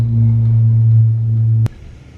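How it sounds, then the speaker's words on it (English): Loud low droning roar from airplanes passing overhead near an airport in Puerto Escondido, Mexico, a steady heavy rumble that cuts off abruptly, leaving quieter background. "Wow, those planes are loud."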